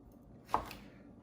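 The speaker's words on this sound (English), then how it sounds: "I got a round pan, so I'm slicing it little bitty rounds." A knife slicing eggplant into rounds makes a single soft, quick cut against the board, faint and close with no talk.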